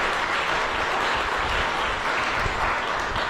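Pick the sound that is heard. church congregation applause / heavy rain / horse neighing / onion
church congregation applause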